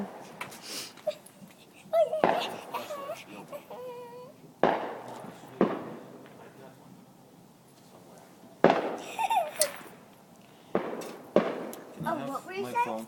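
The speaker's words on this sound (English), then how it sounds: "4th of July fireworks show" Backyard 4th of July fireworks and firecrackers go off in several sharp bangs and crackles, fairly close, while children and adults talk and call out between the blasts.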